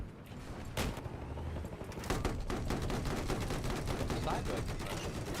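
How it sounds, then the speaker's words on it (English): Video game gunfire comes from a transport overhead, with repeated sharp shots and bursts rattling across the stretch amid busy game noise, heard at moderate level under a player's occasional talk. "I'm getting shot at from the transport"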